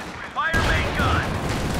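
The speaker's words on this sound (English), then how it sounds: "Fire main gun!" A tank main gun firing in the Company of Heroes video game lands as a sudden, loud blast with a rumbling tail of battle noise. Shouted voices sound over the combat.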